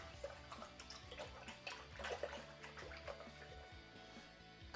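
Grape juice concentrate and water are stirred together for Pinot Grigio wine, a continuous faint sloshing and swirling of liquid with soft knocks, steady and uninterrupted, no talking.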